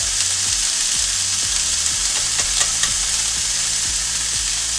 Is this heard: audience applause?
no